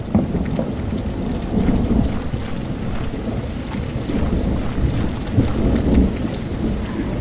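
Heavy rain pouring with rolling thunder in the video game Dentures and Demons, a loud dense continuous downpour with low rumbles swelling throughout.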